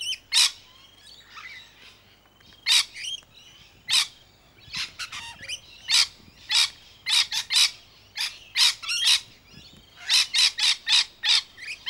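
Sanctuary birds calling to their keeper and each other, a series of sharp, bright squawks and chirps in quick bursts, some rapid runs of calls, fairly close and loud against a quiet background.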